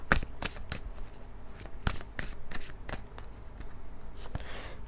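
A tarot or oracle card deck being shuffled and handled for a reading. Crisp riffling and snapping bursts come in quick succession, close and clear, with no talk.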